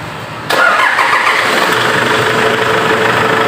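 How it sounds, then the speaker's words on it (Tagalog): A car engine cranks and catches with a sudden loud start, then settles into a steady, close idle during an automatic transmission fluid flush on a Veritek ATF GD322 machine. "So, start engine."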